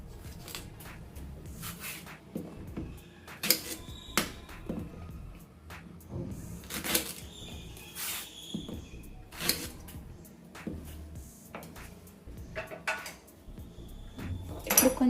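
Knife cutting the ends off raw plantains (green bananas) on a kitchen board, a series of sharp close taps and scrapes spaced irregularly amid light clatter of utensils and dishes, with no talking.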